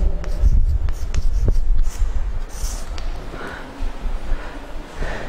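Chalk or marker scratching across a board as a geometry theorem statement is written out, a steady run of close, dry strokes and taps with no talk over it.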